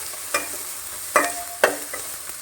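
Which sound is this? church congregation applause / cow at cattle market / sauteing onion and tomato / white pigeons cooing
sauteing onion and tomato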